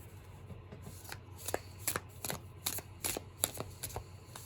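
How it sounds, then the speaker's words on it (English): Antique Anatomy tarot cards are shuffled close up in a quiet room, with a series of crisp riffling and slapping bursts in an irregular rhythm. "It's not difficult to shuffle, but it doesn't really want to bridge right away."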